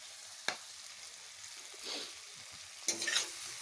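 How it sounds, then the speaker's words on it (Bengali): Potatoes fry in a pan with cumin, Kashmiri chili and turmeric, stirred in a few scraping strokes over a steady close sizzle, with no talking. "দেখো আলুটা সুন্দর ভাজা ভাজা হয়ে গেছে।"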